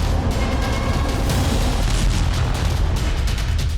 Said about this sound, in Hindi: 20 मिनट के अंदर खार्किव में 17 जगहों पर जबरदस्त विस्फोट हुए